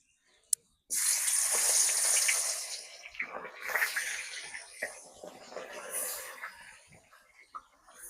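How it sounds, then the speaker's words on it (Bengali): Rohu fish pieces dropped into well-heated oil for a cauliflower curry, bursting into a loud, sudden sizzle that gradually settles into softer crackling and popping, with a voice talking at times. "তেল ভালোভাবে গরম হয়েছে মাছ দিয়ে দিতেছি"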